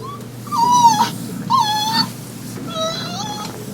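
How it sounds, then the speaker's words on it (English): Recorded fox call played at a museum of biological diversity, three whining, whimpering cries in a row, fairly close and clear. "so there's a fox for you"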